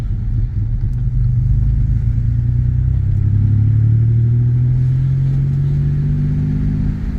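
A 1996 Chevy S10 pickup with a 4.3 V6 and Holley Sniper fuel injection driving down the road, a steady low engine drone and road rumble from inside the cab, with a slight rise in revs midway, no talking.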